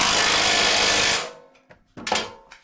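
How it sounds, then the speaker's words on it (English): An angle head impact wrench runs hard for about a second then spins down, followed by a few short bursts, close and loud, while fitting a winch bumper on a Bronco. "Now this angle head is about half the torque"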